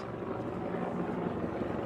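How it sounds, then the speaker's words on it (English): A police helicopter's steady rotor drone hums overhead above a protest in Washington DC, constant and moderately distant, with no voices. "Some police helicopter ahead, up above us, just monitoring the situation."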